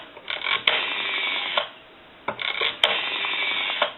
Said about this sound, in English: The rotary turns a lot smoother,